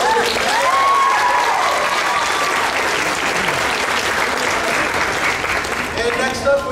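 Sustained applause from a costume contest audience at Spring Kraken Con 2015, steady and full for nearly seven seconds, with some voices and cheers mixed into the crowd noise.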